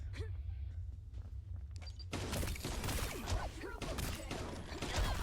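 Gunfire in the video game T3 Arena, sharp bursts of shots starting abruptly partway through and continuing in a busy, crackling cluster over game sounds, preceded by a quieter stretch of low rumble.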